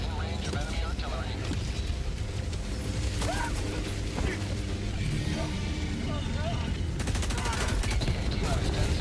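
Enemy artillery fire in a video game: a rapid, loud barrage of gunfire and mechanical clanking, with bursts of explosions throughout and voices talking over it.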